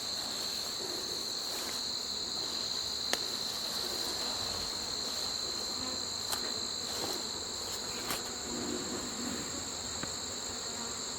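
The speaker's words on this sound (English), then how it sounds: "You can see them there in the one hive just buzzing in and out and buzzing all about." Insects hum and buzz steadily around garden beehives outdoors, a continuous high drone layered with faint passing buzzes and occasional light ticks, no talk.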